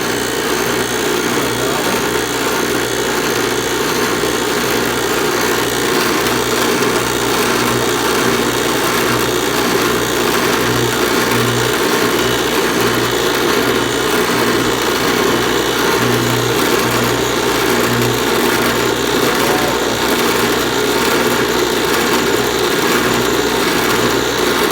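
Small metal lathe running with a wobbly, off-center chuck, a steady mid-pitched motor whine and hum held loud and unbroken throughout, with no talking.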